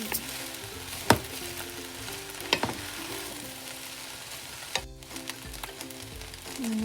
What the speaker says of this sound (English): Now let's add our rice in. Today I'll be using some normal white rice, and we'll mix those all up together.